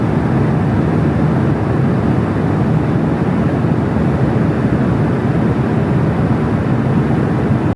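Steady, dense rumbling drone of an airplane cabin in flight on an empty plane to Miami, constant and even throughout with no talk.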